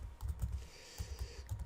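Quick bursts of keystrokes on a computer keyboard as a place name is typed into a photo-editing program's map search, a few short clusters of taps, close and moderately quiet.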